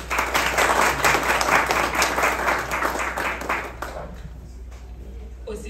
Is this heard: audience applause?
yes